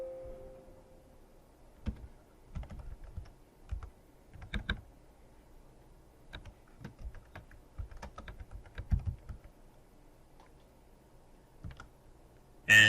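A username and password being typed on a computer keyboard produce irregular clusters of crisp, close key clicks, with short pauses between bursts and a louder clack at the very end, in an otherwise quiet room.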